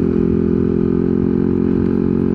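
A Yamaha NMAX 155 scooter with an upgraded CVT running in S-mode, its engine holding a loud, steady, high-revving drone while riding along a road, with no talking.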